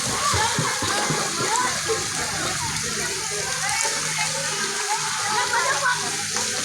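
A steady, dense rush of running water, like a shower spraying continuously, loud and unbroken throughout with no clear pauses.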